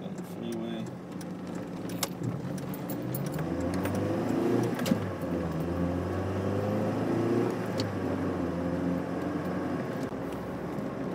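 A 1997 Saturn SL2 car cruising on the freeway, heard from inside as a steady, fairly loud drone of engine and road noise that swells slightly midway and holds without a break.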